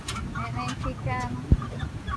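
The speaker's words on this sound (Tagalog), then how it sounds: "Chicken." Native Rhode Island cross hens cluck in a backyard, soft repeated clucks under a murmur of voices, with a single sharp thump partway through.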